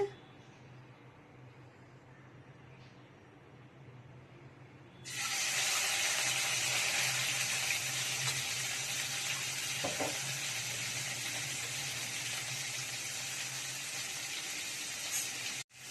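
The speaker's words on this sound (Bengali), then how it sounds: "কড়া গরম হয়ে গেছে, তেল দিয়েছি। চিংড়ি মাছগুলো একটু ভেজে নেবো তেলেতে।" Prawns hitting hot oil in a heated wok burst into a loud, steady sizzle about five seconds in, after a quiet stretch with faint kitchen noise, and the frying hiss holds evenly to the end.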